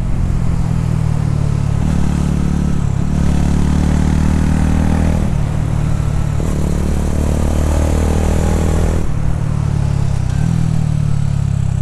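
A TVS Ronin 225 motorcycle rides a mountain road, its mid-pitched engine droning loud and close throughout, with pitch dips and rises as the rider shifts gears and the throttle changes.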